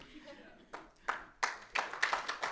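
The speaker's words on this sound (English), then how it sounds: "I was going to suggest a warm round of applause for them" Scattered hand claps begin after a pause and build into a short burst of applause from a small group at an expo launch event, with voices talking underneath.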